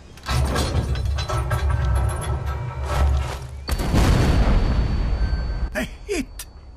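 Loud, heavy cannon booms from the Sniper Elite VR video game as shots strike a destroyer, rumbling continuously with a second surge of blasts and crackling debris before cutting off into brief sharp pops.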